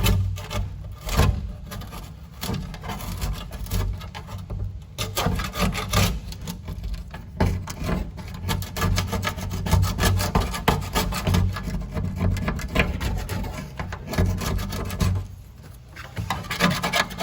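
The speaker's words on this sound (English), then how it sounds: "this type of plastic scraper is a good tool to use for that." A plastic scraper scrapes silicone off the paintwork of a Subaru Brumby, making close, repeated rasping strokes in an uneven back-and-forth rhythm with brief pauses.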